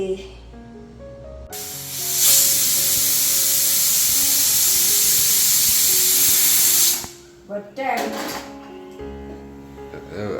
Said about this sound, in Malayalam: വിസിലടിക്കണ സമയത്ത് എടുക്കണ്ട കുക്കർ